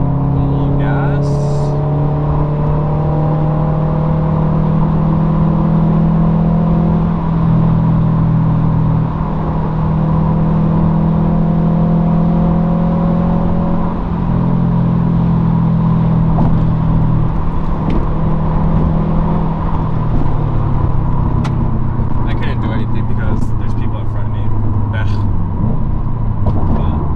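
A 2020 Subaru STI downshifted to fifth gear and accelerating up a highway on-ramp, its engine holding a steady loud drone with rising harmonic steps and road rumble throughout.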